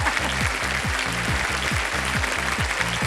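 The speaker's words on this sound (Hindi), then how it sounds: "उत्तर आने से पहले ही ताली बज गई" A studio audience on the KBC quiz show breaks into sustained, even applause that carries on loudly from start to finish, with a rhythmic low pulse running underneath.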